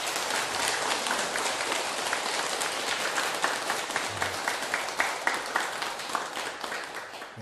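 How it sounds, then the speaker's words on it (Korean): Audience clapping at a Korean lecture on retirement preparation, steady dense applause from a seated crowd heard throughout at moderate distance, with no talk over it. "제대로 되면 박수 한번 치고."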